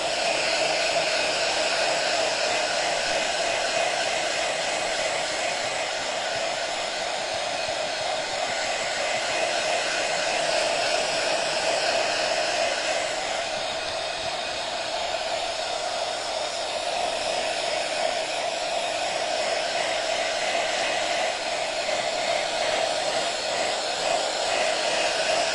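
A hair dryer blows steadily on someone's hair, a loud continuous whooshing hum that runs unbroken throughout with no voices.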